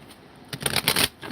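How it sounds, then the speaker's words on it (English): A deck of tarot cards is shuffled in one quick, close burst of papery riffling and flapping that follows a brief quiet moment. "I just shuffled these cards and the same cards are coming out"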